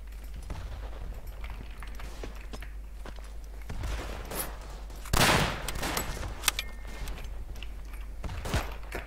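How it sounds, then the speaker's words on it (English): In the World War I shooter Verdun, a continuous crackle of distant gunfire rolls under the scene, broken by one loud, sharp artillery-like blast partway through and a few scattered bangs. "Someone's shooting artillery."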